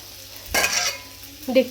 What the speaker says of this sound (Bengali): এখানে জিরে ফোড়ন দিয়ে আলু ভেন্ডির ঝোল হচ্ছে